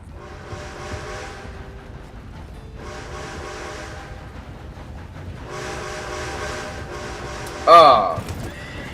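Video game horse neighs and whinnies with clip-clop hooves in repeated bursts, while an approaching train rumbles beneath, ending in a sharp loud crash-like burst near the end; people talk over the scene.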